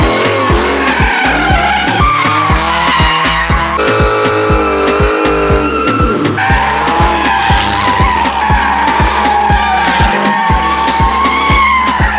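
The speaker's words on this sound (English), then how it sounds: "Oh, this burnout session," Car doing a tire burnout at a street burnout gathering, with loud continuous tire squeal and skidding over a thumping music beat throughout, the engine revving hard under the screech.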